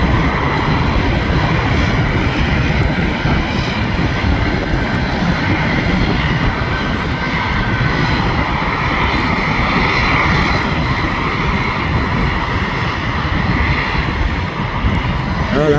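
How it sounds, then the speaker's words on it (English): Fixed-wing firefighting planes run their engines on a runway, a loud, continuous, close drone that holds steady throughout with no speech. "These all look like fire planes."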